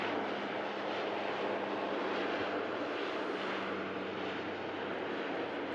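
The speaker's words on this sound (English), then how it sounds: "12-year-old Dash 8." A 12-year-old Luxair Dash 8 turboprop at Manchester Airport gives a constant, even engine drone with a low steady hum underneath, held at one level throughout.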